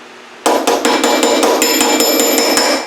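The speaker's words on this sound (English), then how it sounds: "you can hear that hit of the dolly, that metal to metal hit" Hammer striking a steel dolly on Triumph Spitfire door bodywork, a steady series of about a dozen sharp, ringing metal-to-metal hits at an even rhythm, close and loud with no talking.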